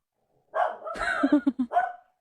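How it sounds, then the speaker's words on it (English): A household dog barks indoors in a quick burst of several short, sharp barks at moderate volume, close by, with no voices over it. "It's just the dog."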